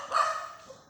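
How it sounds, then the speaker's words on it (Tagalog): A dog gives a single short bark at a rural coconut farm, brief and moderately near, trailing off quickly. "ano kaya yan tinatahol ng mga dog?"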